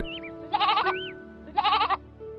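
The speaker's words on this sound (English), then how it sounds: "In the morning, there came a goat." A goat bleats twice, two loud, clear, wavering calls about a second apart, set over a quiet background with a faint tone, as part of a narrated children's fable.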